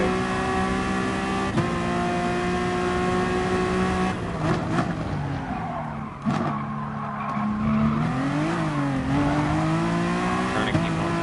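A Honda NSX GT3 race car in GT Sport, with its engine held on throttle in a steady high whine that dips and climbs through gear changes and corners, with brief tyre scrubbing and no talking.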